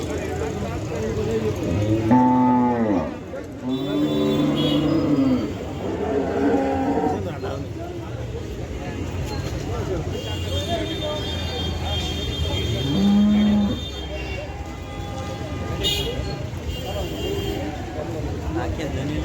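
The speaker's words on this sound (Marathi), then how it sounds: "आजचा पूर्ण गाय बाजार दाखवणार आहे" Cattle, including Gir cows, moo repeatedly at a cattle market, some calls near and loud, amid a busy crowd murmur and people talking throughout.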